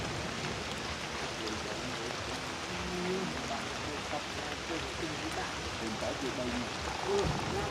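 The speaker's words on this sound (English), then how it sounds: "Rain." Steady rain falls around a home in a rural savanna setting, a continuous even hiss of drops with faint scattered sounds beneath and no talk.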